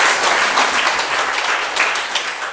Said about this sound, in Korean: 박수 한번 쳐주실래요?